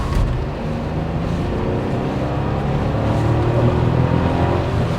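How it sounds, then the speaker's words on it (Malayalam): A Volkswagen Virtus 1-litre GT-line car engine revs to higher RPM, a loud, steady, close droning roar that builds slightly over several seconds. "ബ്രോ ഒന്ന് കുറച്ച് RPM കൂട്ടിയെടുത്തു വണ്ടി."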